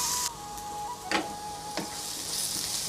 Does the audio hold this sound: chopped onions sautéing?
yes